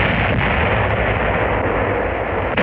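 Naval guns of battleships opening fire at long range at sea: a continuous heavy roar of broadband blast noise, loud and sustained throughout, with no speech.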